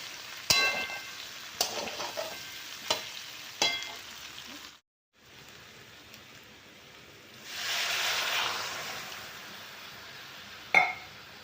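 Mango pieces frying in a pan for pickle sizzle quietly while sharp stirring knocks repeat at a steady pace. After a short silent gap comes a louder hissing surge, then one final clack.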